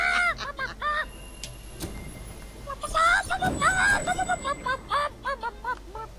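Chickens cluck and squawk in short bursts inside a chicken den in the video game Fable 3, the calls close and clear with a brief clatter in between.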